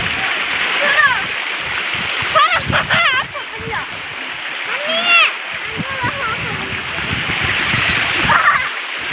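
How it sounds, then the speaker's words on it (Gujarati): Floodwater pours and splashes steadily into Bor lake as it fills over a rushing spillway, a continuous loud wash under excited chatter and shouts from several people nearby. "જો પાણી કેવું પડે છે"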